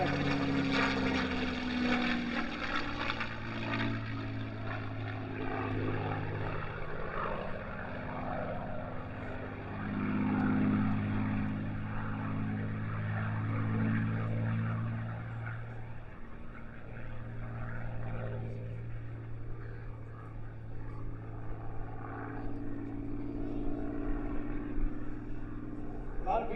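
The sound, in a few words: P-51 Mustang propeller aircraft flying at air show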